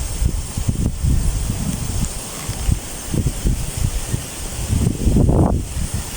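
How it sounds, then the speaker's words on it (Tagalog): Strong wind gusting through a cemetery, buffeting the microphone with low rumbling bursts and rustling, steady throughout with a louder surge near the end. "Napakalakas ng hangin, no?"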